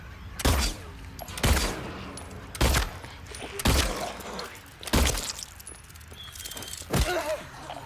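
Gunshots ring out in Silent Hill 2, about seven loud, sharp single blasts spaced roughly a second apart, each with a short ringing tail, no voices between them.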